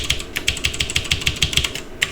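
A computer keyboard is tapped for a shortcut while working in the Gedit text editor, giving a quick, even run of about a dozen crisp, close key clicks.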